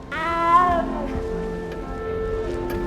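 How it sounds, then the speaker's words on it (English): A frightened little cat in the Nintendo Switch version of the video game Hogwarts Legacy gives one clear, drawn-out meow that rises and then falls. A steady background of game ambience and music continues after it. "You don't need to be frightened, little cat."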